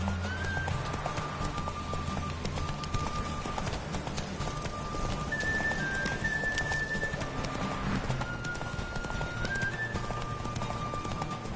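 Horse galloping after being urged on, a steady rapid clip-clop of hooves running continuously at close range with faint tonal background music.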